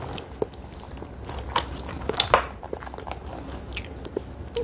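A one-bite mini burger being chewed close up, with soft, steady mastication and a few brighter crunchy bites over a quiet background.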